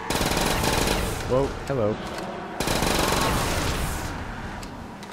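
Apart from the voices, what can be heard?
gunfire from a machine gun in a zombies video game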